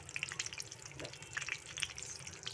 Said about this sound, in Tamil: அரை பதத்துக்கு பொறிச்சு எடுத்துக்கோங்க ரொம்ப பொறிச்சு எடுக்க வேணாம்